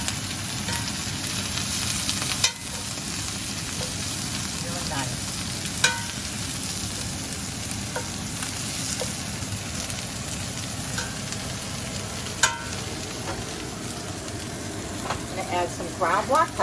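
Brussels sprouts browning in a hot pan over a gas flame, a steady close sizzle with occasional sharp clicks and soft shuffling as they are moved.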